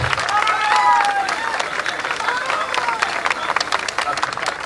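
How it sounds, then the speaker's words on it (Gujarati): Crowd applause at a political rally, a sustained mass of clapping hands over crowd noise, with a loudspeaker voice announcing at the start. "તાળીઓના ગડગડાટ સાથે તેમનું ભવ્ય સ્વાગત કરીશું."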